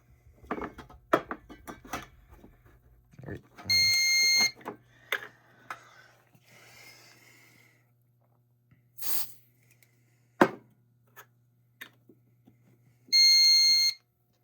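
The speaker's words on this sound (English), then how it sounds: "now we're gonna activate the smoke detector." A shrill Wheelock fire alarm blares in three loud, steady bursts during a system test, separated by clicks, clattering and quiet handling noises.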